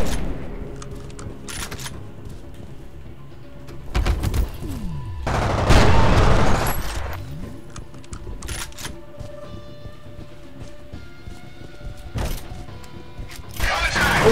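Shotgun blasts from the first-person shooter F.E.A.R.: Extraction Point, several loud booming shots spread across the moment with mechanical clatter, a sweeping whoosh and game ambience between them.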